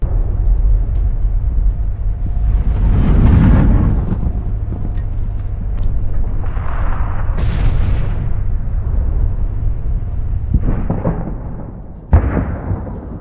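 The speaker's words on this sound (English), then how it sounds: "the artillery batteries open up." Artillery batteries open fire on an armored column, giving heavy booms and rumbling explosions over a continuous low roar. Several sharper blasts stand out, especially near the end. The sound is dense and loud with no speech.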